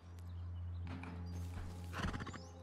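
A horse in the survival game Rust makes soft, close hoof clops and a short whinny, quiet over a low steady hum, with no talking.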